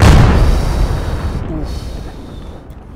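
A heavy boom from an explosive the player detonates in a mobile squad shooter, loud at the start and rolling off into a long fading rumble with no talk over it.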